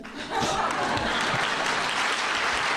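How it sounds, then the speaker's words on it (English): Audience applause at a Hanover Chamber awards ceremony, a dense, loud burst of clapping that swells in quickly and holds steady from a large crowd. "Let's have a round of applause for these people that aren't standing."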